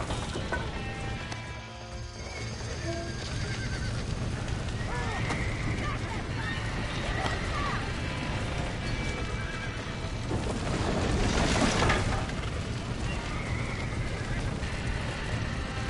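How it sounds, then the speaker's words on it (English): Horses whinny and hooves clop in a burning barn in Red Dead Redemption, the frightened neighs rising over crackling, rumbling background noise, with a louder surge partway through and voices shouting. "Somebody get them horses out!"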